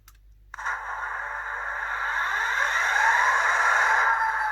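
A model train locomotive's onboard sound unit starts up a big diesel engine. A sharp onset comes after near silence, then a steady droning hum climbs and builds to a loud, sustained engine roar.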